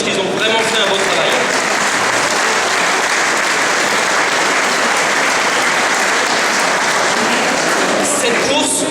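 A large crowd at a corporate cross-country race applauds loudly and steadily for several seconds, the clapping thinning out near the end.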